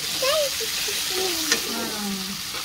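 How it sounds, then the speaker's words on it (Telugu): Tomatoes sizzle and fry in a pan already holding fried drumsticks for a home-style curry, a steady close hiss with light stirring under a faint voice-like tone. "టమాటాస్ మంచిగా ఫ్రై కావాలి కదా"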